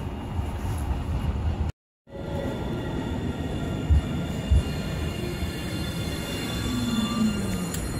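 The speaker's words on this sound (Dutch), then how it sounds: "Onze tram komt eraan." A city tram pulls in, with a steady rumble of wheels on rail and a rising metallic squeal of the wheels. The sound cuts out briefly near the start, and there are a couple of thumps along the way.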